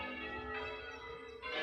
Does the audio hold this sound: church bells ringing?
yes